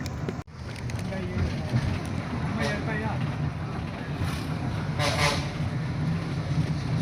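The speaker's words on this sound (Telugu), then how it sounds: "కొట్నూరు గ్రామంలో ప్రయాణిస్తోంది బస్సు." A bus travels through Kotnur village on the Hindupur to Somandepalli road, its engine giving a steady, loud droning rumble from inside the bus that barely changes. There is a short sharp knock near the start.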